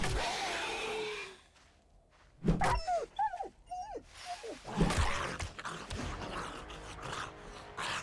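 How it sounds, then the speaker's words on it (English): A dog in a video game gives a few whimpering, whining yelps in a short burst, set between stretches of game ambience and noise, moderately close. "I think the dog is coming back now."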